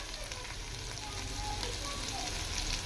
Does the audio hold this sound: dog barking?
no